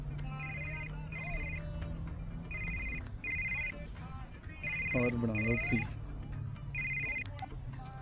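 A phone ringtone plays in repeated short bursts through the clip, a bright electronic trill recurring with brief gaps, over steady background hum while a voice speaks briefly in the middle.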